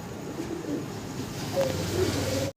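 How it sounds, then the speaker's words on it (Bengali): A pair of red Spanish chorera pigeons coo softly and continuously at close range in low, throaty pulses, with no talk over them. "চমৎকার রেড কালারের ভিতরে আমরা এক পেয়ার স্প্যানিশ চরেরা কবুতর দেখাচ্ছি"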